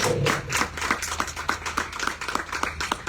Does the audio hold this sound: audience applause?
yes